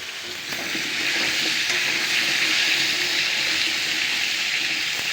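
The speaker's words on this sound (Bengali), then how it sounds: "এবার আলুগুলো এখানে ভাজা হবে।" Cut potatoes fry in a pan with a loud, continuous sizzle that swells after a brief quieter start and holds steady throughout, with no talking.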